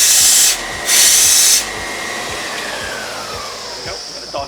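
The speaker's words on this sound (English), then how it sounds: "we're already grinding the header here" Grinding the head of a Mizuno golf iron in a club-building workshop, heard as a loud, continuous high hiss from a grinding machine with two louder surges early on and a steady whir afterward.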